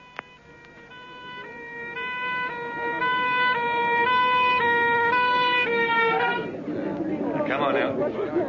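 An ambulance siren wails loudly in a steady repeating two-tone pattern for about six seconds, then cuts off, leaving crowd noise and voices behind it.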